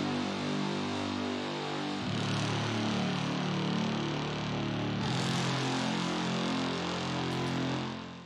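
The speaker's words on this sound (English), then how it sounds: "for even more grit, I've got this trailer brass from Evolution Atlantica" Trailer brass from the Evolution Atlantica sample library, sustained low gritty brass chords swelling loud and dense, shifting to new chords twice before fading at the end.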